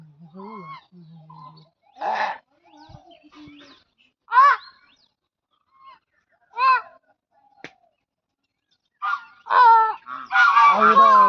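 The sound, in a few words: geese honking while drinking water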